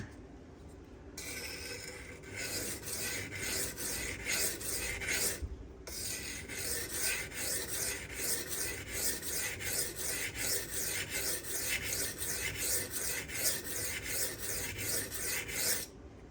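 Steady, rhythmic rasping strokes of a Rotten Design Evo 4.0 Damasteel custom knife being sharpened to widen its bevel, the grinding scrape repeating evenly and close up after a brief pause.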